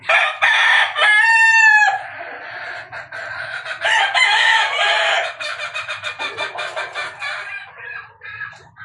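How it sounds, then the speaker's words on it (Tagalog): Several roosters crow loudly and close by on a house's third floor full of chickens, their calls overlapping with clucking from other chickens throughout. "Itong third floor ng bahay namin ay puno ng manok."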